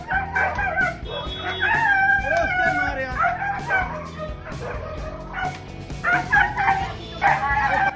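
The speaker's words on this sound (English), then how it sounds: "This is Pitbull and a street dog." A pitbull and a street dog fight, with loud overlapping barks, yelps, howls and whimpers coming in rapid, chaotic bursts throughout.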